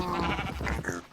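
A black sheep in the Minecraft video game bleats once, a short wavering baa heard close and alone.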